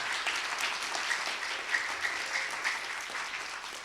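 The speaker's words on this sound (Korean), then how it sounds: "박수 부탁드립니다." Sustained clapping fills a church sanctuary at a Friday worship gathering, an even crowd of hands beating together at a steady volume, with slight swells near the middle and no voices on top.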